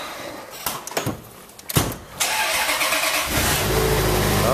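An old car with a stiff, long-unused door is started cold: brief cranking bursts, then the engine catches and settles into a steady, loud idle, close to the microphone with no talk.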